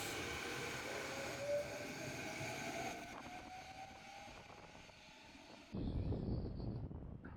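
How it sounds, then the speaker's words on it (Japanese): Short one-station ride aboard a Japanese local train near Kobe, a steady low rumble and rolling rail noise with a faint rising whine, ending in a louder clatter as the train brakes or passes a joint. "一駅だけ電車移動です。"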